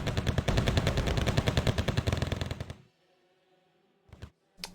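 Sustained automatic gunfire at a forward operating base in the strategy game Wargame: Red Dragon, a loud rapid rattle of bursts lasting nearly three seconds before cutting off, followed by silence and two short later bursts.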